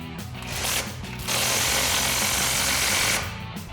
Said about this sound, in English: now we can tighten this down with our 21mm socket